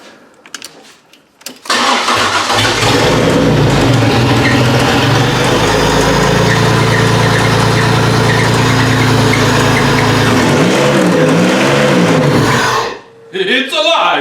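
A car engine cranks briefly and catches after starter troubles, then runs loud and steady at a rough idle for about ten seconds before cutting off, with a few voices before and after.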